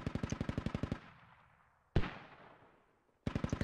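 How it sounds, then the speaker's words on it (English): A mortar round fires and detonates in the military shooter Squad: sharp automatic gunfire bursts open and close the stretch, with a single loud blast between them whose rumble fades away. "Oh, there goes a mortar."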